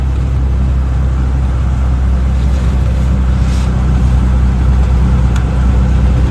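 Auto rickshaw engine droning steadily while riding along a road, a loud, constant low rumble mixed with wind buffeting, no breaks and no talk.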